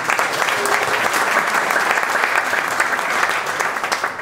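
An audience at a sponsor evening for a sports club breaks into applause, loud and continuous clapping from a crowd, close and full throughout.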